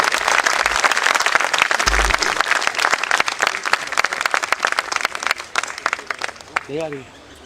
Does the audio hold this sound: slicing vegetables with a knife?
no